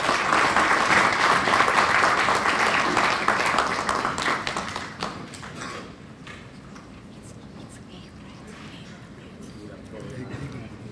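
An audience at a formal election observer mission statement in Kenya applauds loudly, a dense wash of clapping that fades to a lighter patter after about five seconds.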